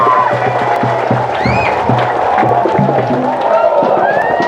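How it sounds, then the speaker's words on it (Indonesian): An audience at an indoor religious lecture event claps and cheers in a broad, continuous wash while a voice and music-like tones sound over it. "Tepuk tangan untuk SMK 10 Garut."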